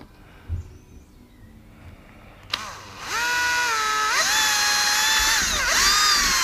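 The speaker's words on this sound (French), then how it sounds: "On va repercer un trou." A power drill re-drills a hole, captured on a GoPro Hero 7 Black fitted with an audio mod: quiet room tone, then a loud close whine that starts at about 2.5 seconds, rises in pitch and holds steady with brief speed dips to the end.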